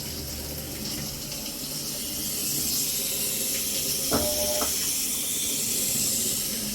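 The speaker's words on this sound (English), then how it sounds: "Water's coming out." Water rushes steadily into a washing machine drum during a no-water-flow repair test, a constant broadband hiss with a brief clunk partway through.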